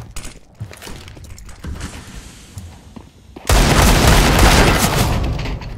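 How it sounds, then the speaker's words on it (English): In Counter-Strike: Global Offensive, a flashbang grenade goes off with a sudden loud blast that swells into a sustained, harsh roar after a stretch of quieter in-game action. "Flashbang."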